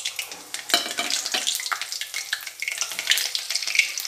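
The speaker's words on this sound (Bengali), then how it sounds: "এবার ওখানে আরেকটু তেল দিয়ে দিয়েছি। দিয়ে এবার এই যে শুকনো লঙ্কা, তেজপাতা আর জিরে ফোড়ন দিয়ে দিচ্ছি।" Dried red chilli, bay leaf and cumin seeds sizzle in hot oil as a tempering for a Bengali dish, a steady close crackle with irregular sharp pops and stirring.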